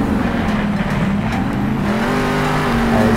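A monster truck engine in the Monster Jam Steel Titans video game, a loud continuous close roar with shifting revs over a full freestyle run, without any speech.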